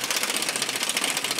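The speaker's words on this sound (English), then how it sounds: "Take your impact wrench." An impact wrench works on the skid shield bolts of a 2004 Chevrolet Tahoe 4WD, giving a loud, fast, steady rattling hammer for about a second and a half, close up.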